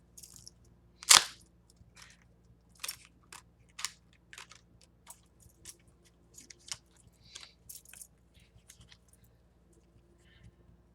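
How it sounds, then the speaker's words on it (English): Tarot cards being riffle shuffled by hand, a brief loud snap followed by a run of soft, scattered papery flicks and taps, close and quiet, with no talking. "likes the feeling of actually riffling the cards so I can mix them properly"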